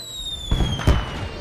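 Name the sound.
fireworks exploding at flower festival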